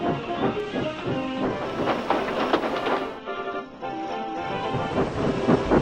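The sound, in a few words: steam engine train puffing along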